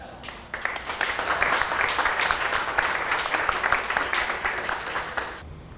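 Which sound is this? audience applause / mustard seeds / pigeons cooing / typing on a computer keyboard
audience applause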